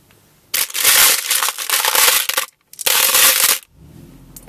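Roughly 200 glass beads shaken inside a container at a gas station, giving two loud bursts of dense, gritty rattling, each about a second and a half long, with a short pause between them and no talk.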